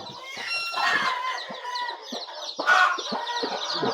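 Native hens on a country chicken farm cluck steadily in a busy, close flock, with a rooster-like call rising briefly near the end over continuous chatter from many birds.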